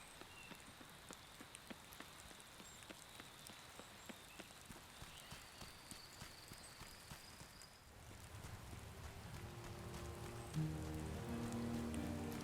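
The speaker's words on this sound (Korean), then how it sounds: "근데 비가 오면 저렇게 간판이 흔들리는 분위기가 이게 비바람 때문에 흔들리는 거겠지?" Rain and wind in the farming game Wylde Flowers, a soft steady patter of rain with scattered drip ticks over a faint windy hiss, turning into a fuller rushing wash partway through. No one speaks.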